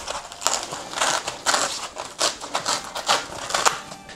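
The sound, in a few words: peeling foam out of a Makita toolbox insert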